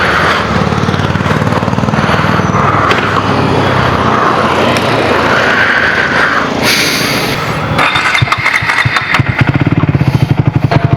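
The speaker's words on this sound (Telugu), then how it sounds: "So typical scrambler 400 TR series యొక్క ఎగ్జాస్ట్ నోట్ అనమాట." A 2026 Triumph Tracker 400 motorcycle runs loud and close, its engine and exhaust holding a steady rumbling note before sharper throttle blips and revving pulses near the end.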